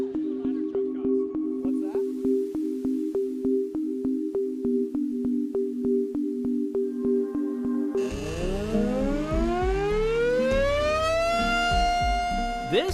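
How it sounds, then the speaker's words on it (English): A steady two-tone drone with rhythmic pulses gives way to a rising, swelling siren wail that climbs and sustains, loud and close. "This is an old-school warning system, the air raid siren."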